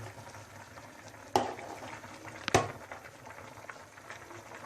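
Yakhni pulao rice cooks over a full flame, a soft steady bubbling and faint sizzle as the water dries out, with two sharp utensil clinks standing out.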